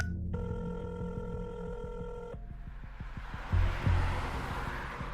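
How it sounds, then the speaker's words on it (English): Phone ringing on a car's passenger seat, a steady electronic ring tone for about two seconds over engine rumble, followed by low thumps. "he sees his phone ringing that was sitting on the passenger seat"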